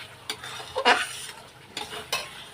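Fried potatoes go into spiced oil in a heavy wok, bringing a few sharp metallic scrapes and clatters from the spatula over a low, near sizzle, with no talk.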